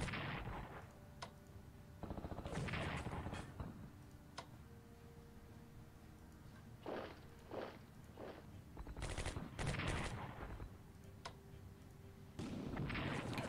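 Bursts of machine-gun fire and scattered shots in a Strategic Command WWII battle as armor attacks cut-off troops, several separate rattling volleys with short quiet gaps between them.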